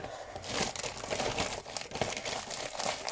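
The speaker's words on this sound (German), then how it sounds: "Jetzt raschelt das ein bisschen." Plastic packaging from a Temu parcel of diamond painting supplies crinkles and crumples steadily while being unpacked, a close, continuous rustle with crisp tearing bursts throughout.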